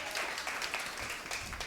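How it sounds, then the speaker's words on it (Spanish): Audience at a storytelling event gives a brief round of applause, faint and steady, a soft wash of many clapping hands. "Un aplauso fuerte"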